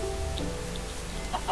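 A Minecraft chicken clucks in short soft bursts over a steady rain-like background hiss, with faint game sounds scattered through.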